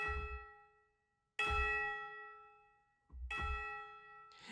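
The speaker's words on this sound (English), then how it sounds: "the tubular bells" Tubular bells ring out three times among orchestral sustain, each strike bright and metallic with long shimmering overtones that decay slowly between hits.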